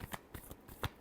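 Tarot cards get a last shuffle during a reading, several quick close riffling flicks in a brief burst.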